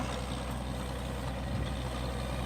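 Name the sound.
borewell drilling rig high-pressure truck running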